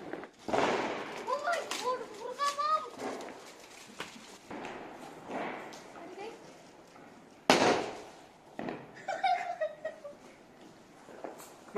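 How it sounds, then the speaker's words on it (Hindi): Diwali firecrackers burst in a series of sharp irregular bangs, some near and loud and others farther off, while people talk and voices rise between the pops. "माही को लगता है कि दिवाली का मतलब होता है कि बम पटाखे फोड़ो, यही होता है बच्चों का।"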